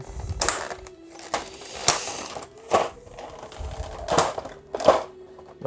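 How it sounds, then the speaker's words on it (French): Tape is peeled off the side of a Saint Seiya Myth Cloth figure in a series of short, close crackling tears and rustles, about half a dozen sharp bursts spaced irregularly with quiet gaps between. "il faut enlever un peu le scotch sur le côté"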